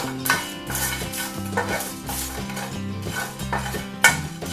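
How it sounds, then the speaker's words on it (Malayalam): A spoon scrapes and stirs roasting garam masala spices in a hot pan after the flame is switched off. The stirring comes as soft repeated scraping strokes, with steady background music playing underneath. "ഓഫ് ആക്കിയിട്ട് കുറച്ച് നേരം കൂടെ ഇളക്കിക്കൊണ്ടിരിക്കണം"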